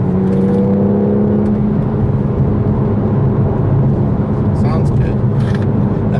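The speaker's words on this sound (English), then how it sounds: "BMW straight six always sounds good." A 2017 BMW M2's straight-six engine hums steadily from inside the car, rising slightly in pitch as it revs under a constant road and wind roar.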